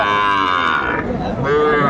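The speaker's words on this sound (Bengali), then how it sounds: "এটা শাহিওয়াল বাচ্চা ভাই।" A calf moos loudly and close by, two drawn-out bellowing calls in quick succession.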